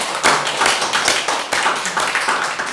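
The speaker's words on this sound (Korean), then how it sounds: "우리 하나님께 크게 박수로 영광 돌리겠습니다." A church congregation at a Pentecost Sunday service claps together, a lively burst of many hands with fast, slightly uneven strokes filling the room.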